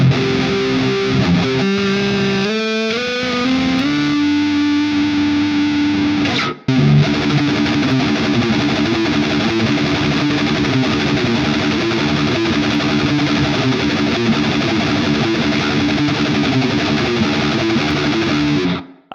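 A heavily distorted electric guitar, run through a built-in cab simulation and into a reverb effect, rings out loud and sustained with chords and a few picked notes, a short break midway, then long washing reverb tails.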